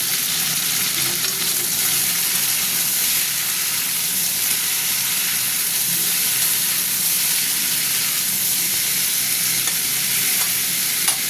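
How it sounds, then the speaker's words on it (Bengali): Vegetables fry in hot oil in a pan for a paneer navratan dish, giving a loud, steady sizzle and hiss with light stirring throughout and no speech. "সবজিগুলো ভাজবো।"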